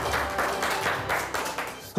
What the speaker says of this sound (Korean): 예, 다시 큰 박수 부탁드리도록 하겠습니다.